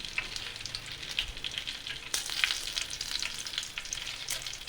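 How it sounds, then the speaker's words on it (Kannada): Chillies frying in hot oil in a pan for veldt grape chutney, a steady crackling sizzle with sharper spits and bursts as they are stirred, close and alone without talk. "ಚೆನ್ನಾಗಿ ಎಣ್ಣೆ ಕಾಯ್ದಿದೆ ಇವಾಗ ಮೆಣಸನ್ನ ಹಾಕೋತಾ ಇದ್ದೀನಿ"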